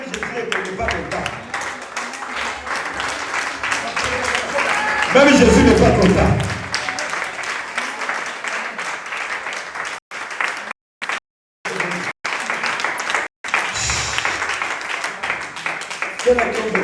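A church congregation applauds in a broad, loud wash that swells to a peak, with a preacher speaking over and after the clapping.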